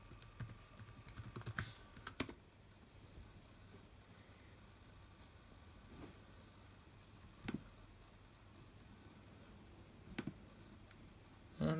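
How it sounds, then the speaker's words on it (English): Quiet, sparse key presses on a 2010 13-inch MacBook Pro laptop keyboard as a password is entered, a few soft clicks scattered over near silence. "Type in the password I can never remember."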